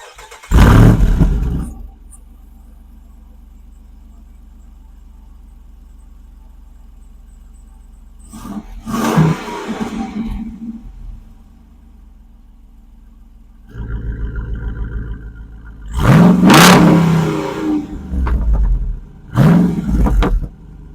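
A 2022 Jeep Wrangler Rubicon 392 with its 6.4-liter Hemi V8 barks loudly through the exhaust in several separate revving bursts, settling into a low rumbling idle between them, with a brief pair of quick blips at the end.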